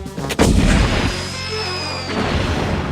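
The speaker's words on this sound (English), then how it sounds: "Then, place the message into the secret message shell. Load, select target, and fire." A cartoon cannon fires a shell carrying a secret message: one loud, booming blast followed by a long rumbling decay, with a faint whistling tone trailing off afterward.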